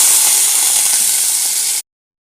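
Green chillies and curry leaves sizzle loudly in hot oil in a tempering pan for curd rice, a steady close crackling hiss that runs unbroken for nearly two seconds and then cuts off abruptly.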